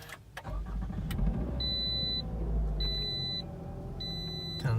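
A 2018 Toyota RAV4 engine starts with a push button, cranking and settling into a steady idle, while three evenly spaced electronic beeps chime over it.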